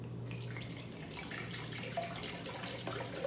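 Water pouring into a container while homemade almond milk is being made in a home kitchen, a soft, steady trickling stream under a faint low hum, quiet and close, with no talk.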